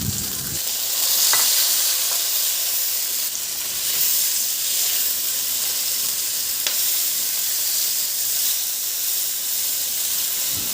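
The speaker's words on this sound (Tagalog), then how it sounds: "At igisa ko na rin yung sibuyas. Ihalo lang din hanggang sa mag-translucent." Onions and tomato sauté in a pan for Filipino ginataang gulay with shrimp, a continuous bright sizzle up close with a few sharp spatula taps, no voices over it.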